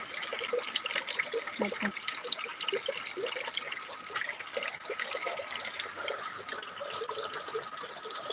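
Rainwater from a roof gutter streams and trickles steadily into a bucket, a continuous splashing flow with faint dripping, heard close and without any voices.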